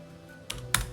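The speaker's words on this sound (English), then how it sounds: "I'm really bad at typing today." Two quick, crisp keystrokes on a computer keyboard land close together, each a sharp click over a faint steady hum.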